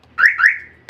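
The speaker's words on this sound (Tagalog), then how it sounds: "Bago ko po susian, tatanggalin po natin ang anti-hijacking alarm." A car's anti-hijacking alarm gives two loud rising electronic chirps in quick succession, then a short faint blip, close and alone without voices.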